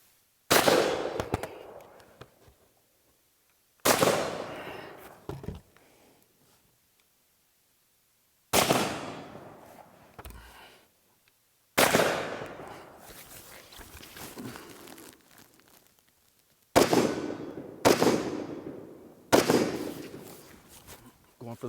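Left-handed shooting of an IWI Tavor X95 rifle outdoors: seven or so loud, sharp reports spaced a few seconds apart, each with a decaying echo, some in quick pairs.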